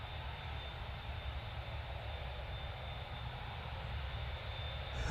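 An Etihad airliner departs Manchester Airport, its engines a steady broadband roar that stays even and continuous throughout, moderately distant with no voices.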